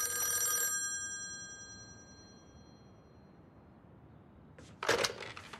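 An old telephone's bell rings briefly and loudly at the start, then fades into quiet room noise before a sharp click-like clatter near the end.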